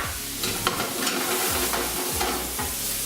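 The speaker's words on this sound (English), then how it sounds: "let that tequila cook off" Tequila bubbles and sizzles as it cooks off in a pan of shrimp for spicy shrimp tacos, with a close, steady frying hiss broken by repeated scraping stirs.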